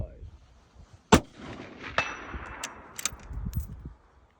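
A rifle shot rings out at an outdoor shooting range, followed by a sharp metallic clang of the bullet striking a steel target, then a few fainter clicks and knocks in light wind.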